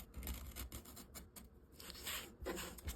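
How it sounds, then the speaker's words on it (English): X-Acto knife scraping around the edge of tape on a resin coaster, a faint, close, continuous rasping and rubbing with brief bursts of scratchy strokes and no talk. "So run that X-Acto knife around the edge of the tape."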